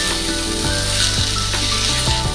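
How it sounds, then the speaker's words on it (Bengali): Fried potatoes and prawns going into a hot pan of oil, setting off a loud, steady sizzle and hiss that carries on throughout with no talking. "আলু আর চিংড়ি মাছ ভাজাগুলো দিয়ে দেবো।"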